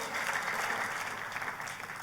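Dense, enthusiastic applause from a large church congregation during a Christmas sermon, steady and loud for the whole stretch.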